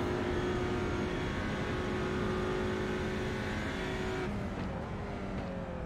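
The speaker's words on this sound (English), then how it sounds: "Let's listen to this one on board with Marius in the number 100 car." Onboard engine of the number 100 race car in a sim racing game at Imola: a steady, loud, high engine drone held at high revs, with a small dip in pitch near the end and no talk.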